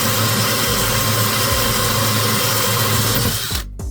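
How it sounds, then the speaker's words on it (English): A power drill with a 6mm diamond bit whines loudly and continuously, grinding steadily into a bathroom wall before cutting off abruptly near the end. "we're gonna go and grab our 6mm diamond bit, and we're gonna drill the hole right here"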